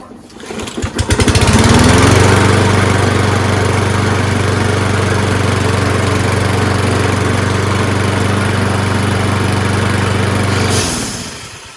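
A lawn mower with an auto choke that has sat unused for two years starts on a single pull, catching quickly and settling into a loud, steady, close engine drone that runs evenly before cutting off near the end.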